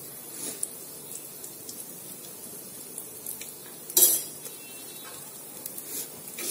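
Turmeric sautéed with garlic and other ingredients in a pan for moong dal khichdi, a quiet steady sizzle with light stirring taps and one sharper scrape partway through, no voices.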